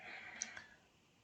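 A single Enter key pressed on a computer keyboard gives a faint, close click followed by a softer second tick, alone in a quiet room.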